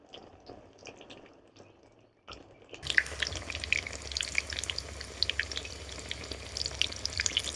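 Eggplant fritters frying in hot oil, a dense crackling sizzle that starts abruptly after a quiet opening and keeps popping steadily up close.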